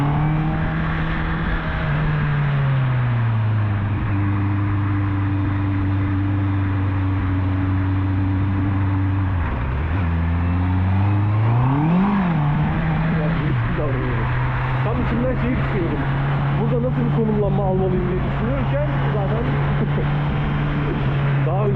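A motorcycle, an MT-07, CB650R or Ninja 400, drones at a steady engine pitch close by, with throttle blips and brief revving swells in the middle and a sustained pull afterward.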